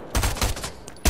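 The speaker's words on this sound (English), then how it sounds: "I'm shooting launch pad." Bursts of video-game gunfire aimed at a character called Launch Pad, several rapid volleys close and loud with short pauses between, ending in one more sharp burst.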